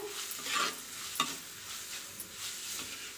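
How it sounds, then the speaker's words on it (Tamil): Chopped onion sautéing in a pan for a meal maker gravy, a soft, close sizzle with scraping stir strokes and light clinks recurring every second or so, no voices. "இது நல்லா ப்ரௌன் கலர் வர அளவுக்கு நம்ம இதை நல்லா வதக்கிக்கணும்."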